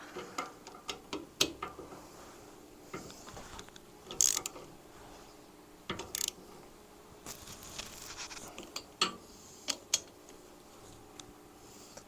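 Socket ratchet snugging cylinder head bolts on a 1972 Harley-Davidson XLCH, quick bursts of sharp ratcheting clicks in irregular short runs, close and alone in a quiet workshop.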